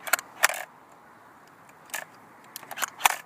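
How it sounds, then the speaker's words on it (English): A G36C airsoft gun's charging handle flipping side to side gives a few sharp, close plastic clicks and snaps, spaced apart with quiet gaps between them. "The charging handle flips to both sides."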